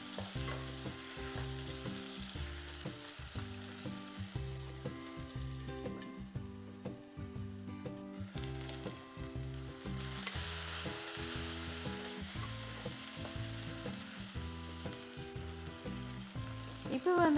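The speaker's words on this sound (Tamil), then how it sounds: "அதையும் போட்டு இதோட மிக்ஸ் பண்ணி ஃப்ரை பண்ணிக்கொள்ளுங்க" Chopped tomato fries in masala for a Sri Lankan fish curry with a loud, continuous crackling sizzle up close. A regular low thudding rhythm of stirring runs throughout, and no one speaks.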